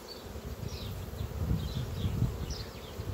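Honeybees buzz steadily around hive colonies in an apiary, a soft continuous low hum with occasional individual bees passing close, no voices over it.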